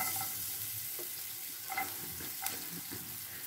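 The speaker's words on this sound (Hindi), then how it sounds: "आलू निकालने के बाद में जो ऑयल इसमें बचा है, अब इसी में हम लहसुन डाल देंगे" Garlic sizzling in leftover oil in a pan after potatoes were fried, over high flame, a steady crackling fry with occasional stirring scrapes throughout.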